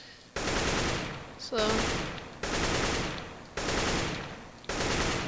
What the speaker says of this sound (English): Make sure you're not moving while shooting, otherwise it'll be like this.